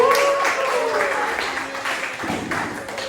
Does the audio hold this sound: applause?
yes